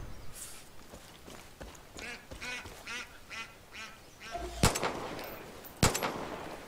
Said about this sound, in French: Reviens là, le canard.